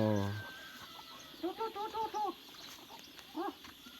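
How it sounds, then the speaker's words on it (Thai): Several chickens in a village coop give short, close clucking calls in a quick series, then one more cluck after a brief pause, over steady outdoor background noise. "ยังมีไก่พักอยู่ในแล้วก็มีไก่น้อยนะ"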